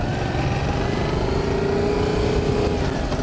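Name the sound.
Yamaha MT-07 motorcycle engine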